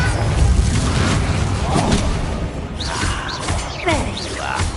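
Confringo fire spell blasts in Hogwarts Legacy, a loud, dense burst of booming, whooshing magical energy that rumbles on through the clip, with a voice calling out spells over it.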